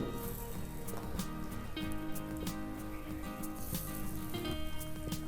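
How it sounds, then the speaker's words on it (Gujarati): Methi gota batter sizzles steadily in a lightly oiled appe pan, a dense continuous frying crackle with scattered pops, close and loud throughout with no talking. "દરેક મોડની અંદર આપણે આ રીતે થોડું થોડું બેટર એડ કરીશું"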